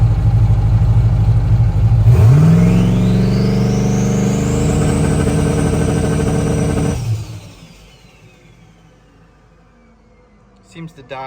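Turbocharged Foxbody Mustang engine held on a trans brake, loud and close: steady idle, then a rising rev that climbs and holds high for several seconds before dropping off and fading, with a brief clatter at the end.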